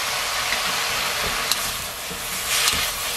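Water poured into a simmering pot of Spam and zucchini stew, a steady close hissing wash with a few small clicks and bumps.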